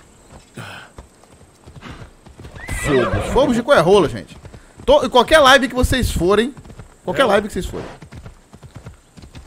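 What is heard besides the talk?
horse galloping hooves in Assassin's Creed Odyssey video game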